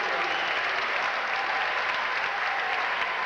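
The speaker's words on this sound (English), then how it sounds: "Big hand here for Eli Pasquale, homeboy" A crowd claps warmly for a player introduction at a basketball game between the Canadian National Team and Ontario's Finest. The steady, even applause lasts a few seconds with no voices.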